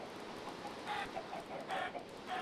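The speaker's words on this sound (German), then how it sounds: "das sind meine Hühner" Minecraft chickens clucking in short bursts against a steady noisy background, faint and a little distant, with no talk over them.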